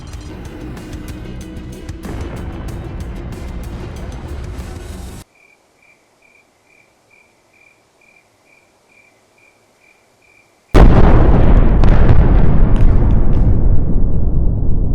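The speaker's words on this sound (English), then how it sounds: "The nukes exploded very close together" Nuclear bombs detonating in the flight combat game Nuclear Option: a loud, roaring blast fills the opening seconds, then a near-silent gap with a faint repeating beep, then a second heavy, rumbling explosion that slowly fades.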